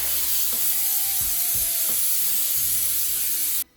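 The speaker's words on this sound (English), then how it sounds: "I'm gonna spray this rack with some cooking spray so that" A few short bursts of cooking spray hiss close by onto a rack, with faint clicks and low mechanical sounds between them, ending abruptly.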